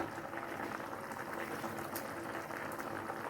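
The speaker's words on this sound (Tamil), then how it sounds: "பருப்பு நல்லா கொதிச்சிட்ருக்கு." A pot of lentils bubbles and simmers steadily up close, a continuous soft burbling with small pops throughout.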